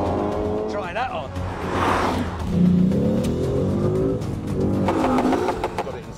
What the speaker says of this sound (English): Sport mode, which makes the exhaust pop and bang.